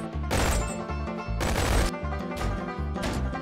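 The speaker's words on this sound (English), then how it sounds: "Okay, dual SMGs." Two submachine guns blaze in BONELAB, loud close bursts of rapid automatic fire in three or four rhythmic volleys separated by brief gaps.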